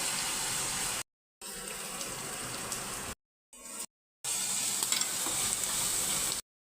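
Whole cumin seeds and a home-pounded spice paste frying in hot oil for pav bhaji, a steady close sizzle and bubbling with stirring, broken by a few short silent gaps.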